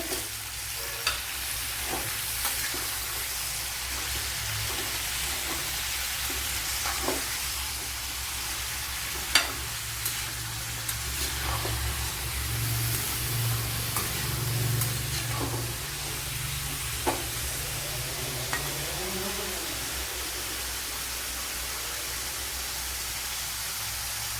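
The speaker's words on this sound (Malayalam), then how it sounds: "നെല്ലിക്ക തട്ടി കൊടുത്തൊന്ന് നല്ല പോലെ ഒന്ന് വാട്ടിയെടുക്കണം" Gooseberries sauté in a pan for gooseberry pickle, a steady, even sizzle and hiss running throughout, with scattered scrapes and knocks as they are stirred.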